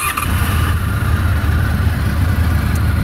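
A fuel-injected 2001 Honda VFR800 motorcycle engine idles steadily and close by, a continuous low rumble with no voices over it.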